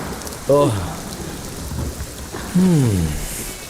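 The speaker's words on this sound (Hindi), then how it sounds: "बारिश हो रही है" Steady, dense rain hisses through the whole clip while two short voiced cries break through on top of it.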